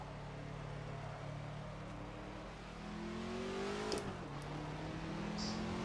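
A road car built by a Formula 1 team revs hard on the Barcelona circuit, its engine note climbing and dropping as the driver heel-and-toes through the gears. A steady, close rumble builds into rising pitch sweeps, with no talking over it.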